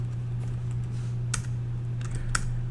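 A few sharp keystrokes on a computer keyboard as a command is typed at a command line, in two small bursts over a steady low electrical hum, fairly close.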